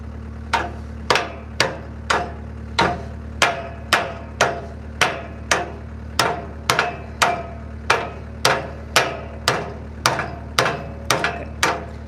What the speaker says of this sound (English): That one we're just going to take off by the sledgehammer.